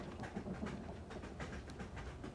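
A train moving at speed in the film Midnight Run, a steady, dense rumble with rhythmic clatter of the wheels running throughout, heard from inside the train.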